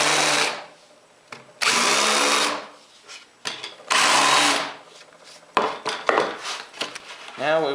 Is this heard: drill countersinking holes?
yes